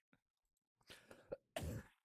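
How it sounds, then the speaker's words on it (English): A person with a bit of a cough lets out a few close, harsh coughs. One faint hack comes first, then a short cluster of dry bursts, and a final loud, chesty cough ends the sequence. "I do have a bit of a cough, so I apologize for any eardrum pain that may or may not occur."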